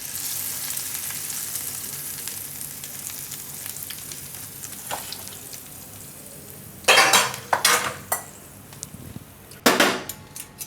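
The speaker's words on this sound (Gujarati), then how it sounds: "મિક્સ કરીને એને વઘાર શાક ઉપર નાખી દેવું." Spiced tempering oil with Kashmiri chili poured over a spinach and eggplant curry, bursting into sharp, loud sizzles in two strong waves after a quieter stretch of faint kitchen noise, with no talking.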